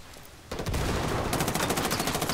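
After a brief quiet start, loud rapid gunfire erupts from a grenade launcher weapon in the Ghost Recon Wildlands video game, sustained and close, with no talking.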